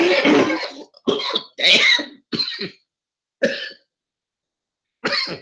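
A person coughs up close in a run of harsh, loud bursts, first a cluster of quick coughs and then single ones spaced out by quiet gaps.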